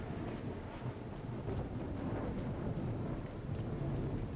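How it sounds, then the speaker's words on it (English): Thunder from a lightning hazard in the Battle Chasers: Nightwar game, a low continuous rumbling roll at moderate level, steady throughout with no talk over it. "I saw a lightning hazard."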